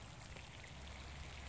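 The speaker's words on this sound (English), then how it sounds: "Raining like crazy." Heavy summer rain pours down during a fishing trip outdoors, a dense, steady hiss with no break and no voices, close and even.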